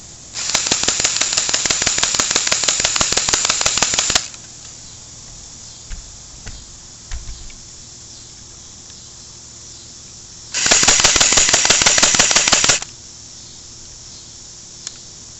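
An M74DP airsoft gun fires on full auto in two loud, rapid bursts, about four seconds and then two seconds long, separated by near silence with a few faint clicks.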